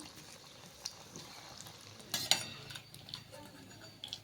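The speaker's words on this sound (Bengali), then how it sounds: "বাকি বলগুলো আমি এইভাবেই ভেজে নেব" Soya chunk balls deep frying in oil, with a faint, soft bubbling hiss and a few brief clinks of a metal utensil against the pan, the loudest near the middle.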